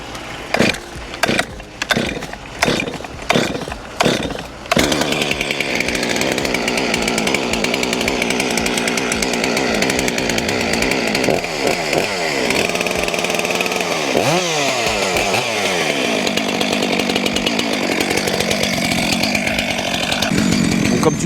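A chainsaw cuts firewood during an affouage woodlot session in a French forest. It opens with several short revving bursts, then runs loud and steady for a long stretch, with the pitch dipping and rising as the chain bites the wood.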